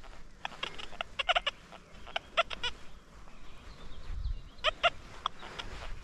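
XP Deus 2 metal detector running a very gentle base program on soft beta 3.02, giving irregular bursts of high, scratchy chirps and crackles from ground noise with short quiet gaps, fairly faint and heard alone.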